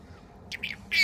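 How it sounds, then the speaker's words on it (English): A budgie chirps in a few quick, bright bursts: two short calls near the middle, then a louder, sustained chirp at the end, close by and otherwise quiet. "What are you doing, bird? I'm a budgie."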